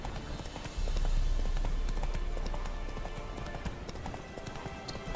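Hoofbeats from a horse in The Witcher 3: Wild Hunt game, a steady run of clip-clop footfalls over a low rumble, growing louder after the first second and continuing throughout.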